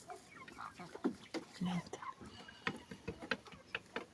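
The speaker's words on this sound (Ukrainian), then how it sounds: "Не тільки курчаток, вони курочки ходять дорослі. А ось тут і курчата." Young chicks and grown hens on a farm cluck and peep close by in short, scattered calls, with faint rustling and background farmyard noise.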